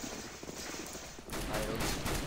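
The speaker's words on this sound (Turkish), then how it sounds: "Bu niye beni vuruyor?" Dense gunfire rattles through a CS:GO Jailbreak match, a steady wash of shots that swells louder and fuller about halfway through and keeps going to the end.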